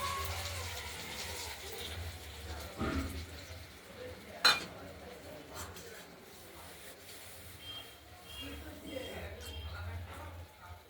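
A spoon stirs stone-ground spice paste with turmeric in a pan for a prawn curry, giving faint scrapes and soft sizzling, with one sharp metallic clank partway through.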